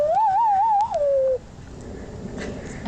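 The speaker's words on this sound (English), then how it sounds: "we need to give a little bird call" Bird call sound effect: a loud, warbling, cooing whistle that wavers in pitch for about a second, then slides downward and stops, leaving quiet background noise.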